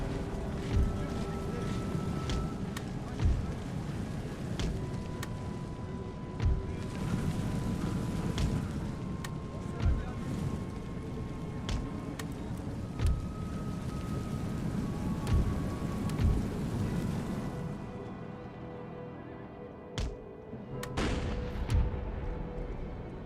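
Artillery and cannon fire in Empire: Total War, with the Empire 2 mod, as heavy booms recur every few seconds under a dense, rain-like roar of battle, softening toward the end.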